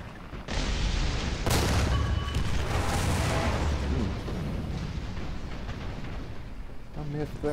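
Heavy cannon shots from a T28 super heavy tank in War Thunder, a loud booming blast with a long rumbling tail over continuous engine noise.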